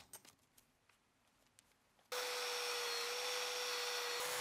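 A polishing machine buffs a grand piano keyboard with fine polishing paste. After a quiet stretch of faint handling noise it switches on abruptly into a loud, steady whirring hum with a constant motor tone.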